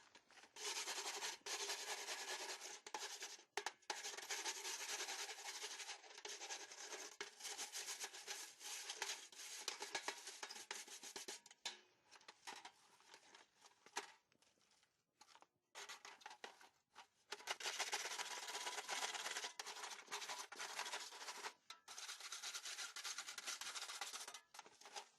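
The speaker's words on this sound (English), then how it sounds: "I'm now going to take the stove connector outside of the house and clean it." A stove connector pipe from a chimney is cleaned outdoors, with continuous rasping, scraping strokes and a few brief pauses, close and fairly quiet.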